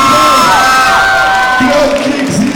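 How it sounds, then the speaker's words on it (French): Audience at a cosplay contest cheering and whooping loudly, a dense crowd roar with shrill shouts, close and continuous. "On peut les applaudir."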